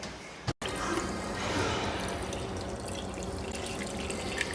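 Sweet wort runs from the grain bed into the brew kettle in a steady splashing trickle, close and constant after a brief click.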